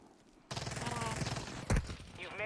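Rapid gunfire in a low-gravity battle royale video game erupts after a quiet start, a dense automatic burst with one heavier shot near the end, close and loud under the game's mix.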